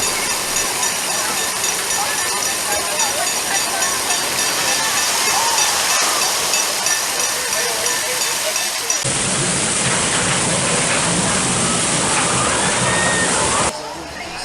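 Water splashes and rushes steadily at Splash Station, a kids' interactive water play area at Canada's Wonderland Splash Works. The broad, continuous hiss shifts abruptly partway through.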